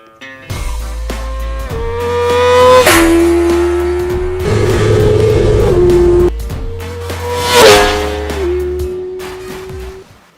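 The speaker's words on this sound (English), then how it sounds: "this inline-four 636cc Screamer is spinning at full shaft" A high-pitched Kawasaki ZX-6R 636cc inline-four motorcycle engine revs up and down repeatedly, screaming to peaks then dropping back, loud and close.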